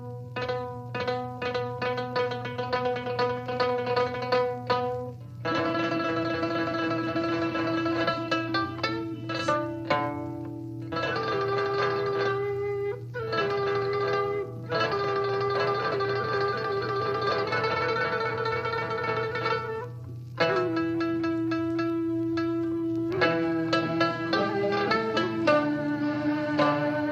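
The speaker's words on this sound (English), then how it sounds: "So here comes the last time of Moonlight on the Qingyang River." "Moonlight on the Qingyang River" is a piece of traditional Chinese music from Jiangsu, played continuously by plucked and melodic instruments over a steady low drone. Phrases come in bursts with short pauses between them, and no one speaks.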